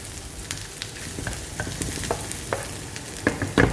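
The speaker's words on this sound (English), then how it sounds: "so just keep stirring. You just want to sort of fry it a bit" Meat pie filling is stirred and fried in a pan: a close, continuous sizzle broken by scraping stir strokes and sharp crackles that grow busier toward the end, with no talking.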